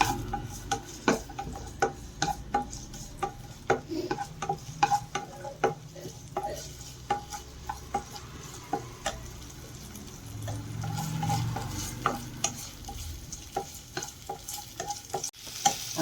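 Ginger and garlic frying in a pan as the base for a paneer and okra curry, a soft continuous sizzle with frequent clicks and scrapes of a spoon against the pan.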